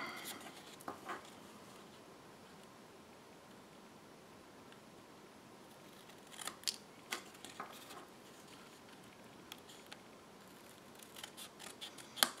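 Scissors snip through excess paper while making a handmade holiday card, quiet close-up cuts in a few irregular clusters of sharp clicks against a near-silent room.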